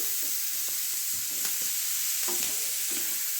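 Vegetables with egg salsa stir-fried over a high flame, a constant close sizzle broken by scraping stirs and soft clinks of the utensil in the pan, with no talking.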